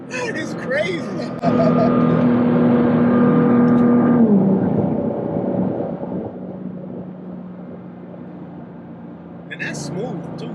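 An 1100-horsepower Nissan GT-R engine builds boost and pulls hard, a loud sustained rising drone with a held tone, then eases off and fades; people talk and exclaim over it inside the car.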